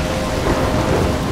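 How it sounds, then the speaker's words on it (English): A loud thunderstorm in the video game Life Is Strange: a dense, steady roar of heavy rain with rumbling thunder underneath, filling the whole moment without pause. "I'm trapped in a storm?"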